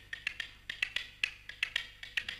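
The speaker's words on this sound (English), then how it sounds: "Spoons are a type of percussion instrument in Turkish music." Spoons played as a Turkish folk percussion instrument give a quick run of about a dozen sharp, bright clicks in an irregular rhythm, close and fairly quiet with no voices.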